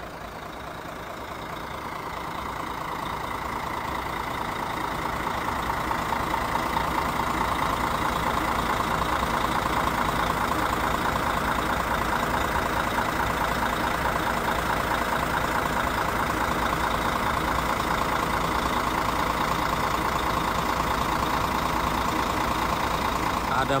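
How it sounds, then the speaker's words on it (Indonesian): A new Lorena double-decker bus engine idles nearby, a steady, throbbing mechanical rumble that builds slightly at first, then holds constant. "Suara mesinnya renyah banget."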